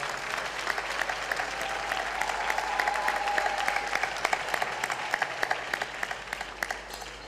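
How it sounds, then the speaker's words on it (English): Audience applause at a 30-year celebration gala for 100 Black Men in St. Louis, a steady wash of many hands clapping with sharper individual claps standing out, sustained and moderately close with no talk over it. "Please join me in a round of applause for Tom Voss."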